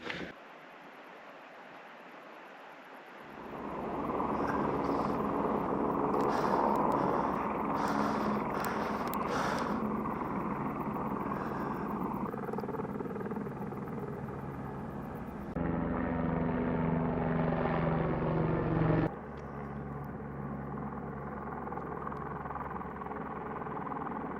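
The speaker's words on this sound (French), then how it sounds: "Il y a un hélicoptère qui vient décharger du matériel et des hommes" A helicopter flying in to drop equipment and workers at a reservoir worksite in the Pyrenees mountains, its steady rotor and engine drone loud and continuous, shifting in pitch and intensity as it approaches and hovers.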